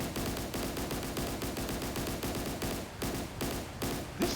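A warship's main gun fires at a target during a naval battle in DCS World, a long, rapid, steady series of close gunfire reports that slows slightly toward the end, with no talk.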